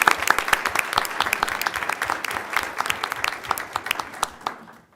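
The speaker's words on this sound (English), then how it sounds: "we could clap for her" An audience at a school board meeting claps together in a sustained burst of applause that holds steady and then tapers off near the end.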